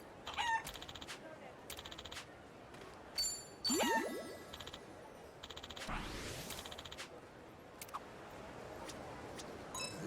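Chickens clucking and a rooster crowing in the video game Like a Dragon: Infinite Wealth, several short bursts and calls spread across the scene over steady ambient game background.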